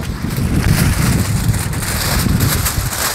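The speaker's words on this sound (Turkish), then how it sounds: "Yine çok rüzgarlı arkadaşlar terasım. Rüzgar sesi geliyorsa kusura bakmayın." Loud, continuous wind buffets the microphone on an outdoor rooftop terrace, a rough rumbling roar that never lets up for the whole stretch.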